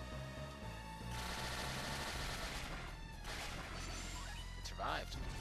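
Jenna's cannon attack in the Golden Sun: The Lost Age video game, a loud sustained crashing, booming burst of game effects with music underneath, ending in a short swooping tone.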